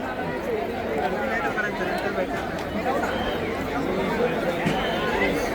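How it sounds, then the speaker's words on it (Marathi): Steady hubbub of a large temple crowd in Kolhapur, many voices overlapping into a continuous babble at even loudness, with a few closer voices and occasional footsteps standing out. "आजच्या दिवसातली गर्दी बघू शकतो किती आहे"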